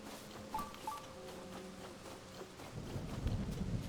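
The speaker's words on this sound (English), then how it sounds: "there's still a thunderstorm going on" A thunderstorm rolls on in The Legend of Zelda: Tears of the Kingdom, with quiet rain hiss and a low thunder rumble swelling toward the end. Soft tonal chimes sit over it, and nobody speaks.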